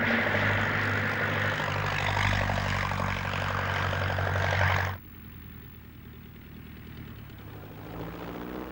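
Propeller drone of a vintage Jenny biplane in flight, a loud steady broadband roar with a low engine hum that cuts abruptly to a quieter, duller murmur partway through.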